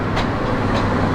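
Jayantika train bound for Dhaka passing at a crossing in Moulvibazar district: a loud, close rolling rumble with rhythmic rattling of wagons over the rails.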